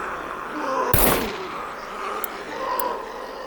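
A single loud revolver gunshot in the SCUM video game cracks sharply near the start, then fades into a low ambient wash with a couple of faint ticks.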